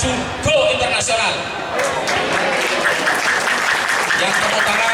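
A school audience at an Isra' Mi'raj celebration at SMAN 6 Cirebon claps loudly, the applause swelling and continuing for several seconds while a voice speaks over it at the start.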